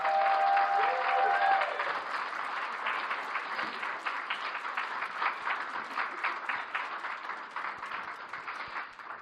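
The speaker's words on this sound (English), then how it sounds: "could I get another big round of applause as we invite Nikki" Audience applause as a woman returns to the stage at an evaluation contest, opening with a brief tonal whistle or cheer, then dense clapping that gradually thins and softens toward the end.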